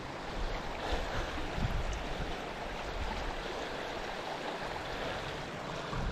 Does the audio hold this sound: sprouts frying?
no